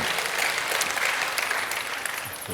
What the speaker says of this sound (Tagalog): Isang malakas na palakpak po sa ating Panginoon.